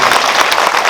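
A cinema audience applauds at a post-screening talk in a movie theater, a loud, close, continuous burst of many hands clapping throughout the short moment.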